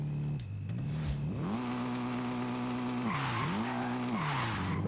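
Tires squealing while a Volkswagen Golf drifts in Forza Horizon 5, with the engine rising and falling in pitch as revs change and screeching bursts layered over the droning motor.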